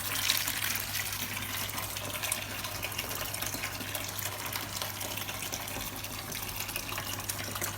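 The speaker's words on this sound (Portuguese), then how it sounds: "Vou então agora começar aqui a encher o nosso balde com os tais cerca de 15 litros de água" Water gushes steadily from a tap into a bucket, filling it with about 15 litres for saltwater aquarium maintenance, as a continuous close splashing rush with a low mains hum beneath.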